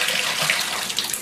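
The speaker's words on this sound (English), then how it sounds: "What I'm gonna do now is I'm gonna fill it full of water" Tap water runs steadily and loudly into a container while developing C-41 colour film, a continuous close rushing splash with no talk.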